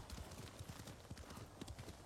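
Horse hooves clip-clop in a video game, a steady rhythmic stream of quiet hoof beats at a trot, faint and continuous throughout.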